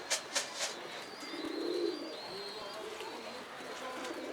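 Low cooing from pigeons sits beneath background noise, after a few sharp knocks at the start; faint voices are present.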